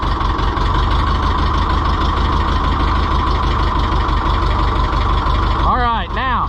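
An Oliver 1365 tractor engine cold-starts and settles into a steady, loud idle, a dense low rumble running throughout, with a brief wavering rev near the end.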